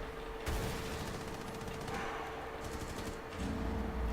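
Rapid automatic gunfire in a competitive Rainbow Six Siege match, bullets punching through a wall, a dense rattling burst that keeps going for several seconds at moderate loudness with no voices.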